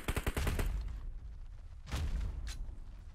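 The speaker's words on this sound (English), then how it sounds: "I'm getting sniped" Sniper rifle shots ring out in a video game, a quick burst of sharp cracks at the start followed by two more isolated reports later, each loud and punchy against quiet background.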